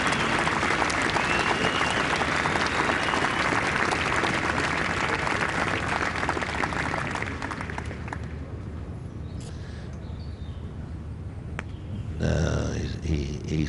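Golf spectators at the 2008 BMW PGA Championship, final round, applaud loudly in a sustained wash of clapping that fades after several seconds. A commentator's voice follows, then a brief renewed burst of crowd noise near the end.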